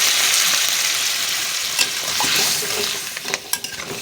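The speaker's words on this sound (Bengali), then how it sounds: "তো এখন আমি জল দিয়ে দেবো" Water is poured into a pan of sizzling crab curry, a loud frying hiss that softens into bubbling with a few stirring clinks toward the end, close and without talk.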